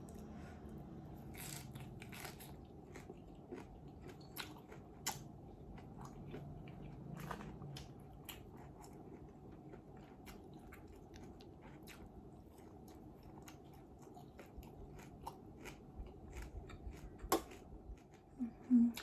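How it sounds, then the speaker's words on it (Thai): Crunchy chewing of spicy Thai papaya salad, faint close-up bites and crunches repeating irregularly over a quiet background, with a soft voice near the end. "เวลาเราเคี้ยวเนาะมันจะเป็นกรึบๆนะคะ"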